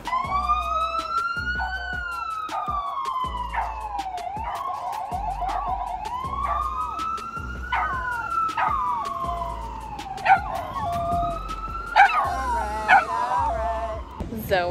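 A dog howls in long rising and falling wails alongside a wailing police siren, the two sounds overlapping and continuing for the whole stretch in a misty city street, with some short yaps near the end.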